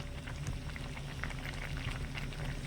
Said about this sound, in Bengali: এখন কিন্তু আমের টুকরোগুলো খুব সুন্দরভাবে সেদ্ধ হয়ে গেছে চিনি রসটাও কিন্তু অনেকটা ঘন হয়ে গেছে